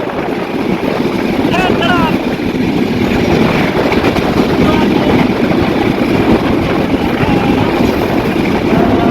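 The Chitra Express, an intercity passenger train running from Khulna toward Dhaka, passes at Kaliyapur. It makes a loud, continuous rolling rumble with heavy wind buffeting on the microphone and faint high squeals over the roar.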